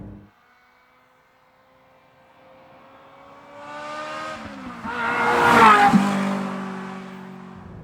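Ferrari 355 engine revving, a harmonic tone that rises and climbs into a loud, rich peak before easing back and settling into a steady hum.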